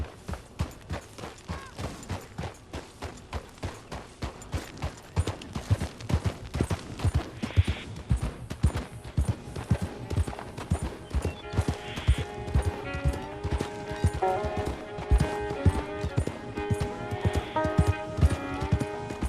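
Steady rhythmic hoofbeats of a galloping horse in Red Dead Redemption 2 run throughout, with a musical score layered over them and a brief whinny partway through.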